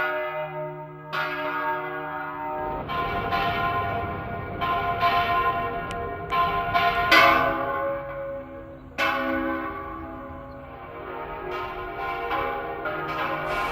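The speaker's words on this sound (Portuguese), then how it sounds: "Quando esses dois sinos se cruzam" Church bells in a Minas Gerais town in Brazil ring loudly in repeated, overlapping strikes, two bells crossing, their long resonant tones layering over each other with no voices.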